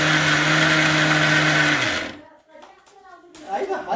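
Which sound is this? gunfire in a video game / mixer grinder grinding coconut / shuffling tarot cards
mixer grinder grinding coconut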